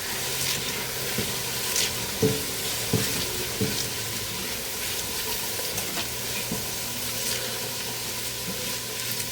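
Garlic fries in a pan as the base for a beef stew, giving a steady, soft sizzle with occasional scrapes and clicks of stirring. The sizzle stays close and continuous, with no talking.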